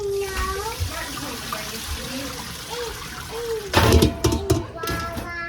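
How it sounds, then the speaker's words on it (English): Freshly washed peas are strained in water while being prepared for freezing; a steady sloshing trickle runs close by, then a louder burst of splashing and pouring comes near the end. "Then we're going to strain them."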